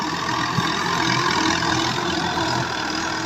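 A heavy Fiat 85 HP tractor engine pulling a cotton planter, droning steadily at close range, a continuous low rumble with a slight labouring tone throughout as the wheels slip.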